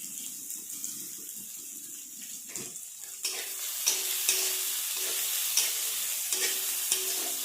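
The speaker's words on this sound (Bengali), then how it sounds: "থেতো করে রাখা রসুন একটু ভেজে নিয়েছি এরপর দিয়ে দেব কুচিয়ে রাখা পেঁয়াজ" Chopped onion goes into a pan with garlic already frying; a quiet crackle swells into a fuller sizzle with repeated stirring scrapes and clicks, and no voices.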